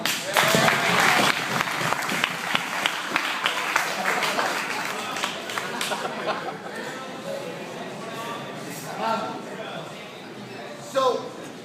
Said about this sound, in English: How about a round of applause for his glasses?